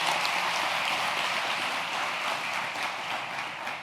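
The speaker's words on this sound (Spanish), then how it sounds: "Si van a aplaudir, aplaude fuerte." A church congregation applauds during a Spanish-language sermon, a dense, steady wash of clapping at moderate volume that carries through the whole stretch without a break.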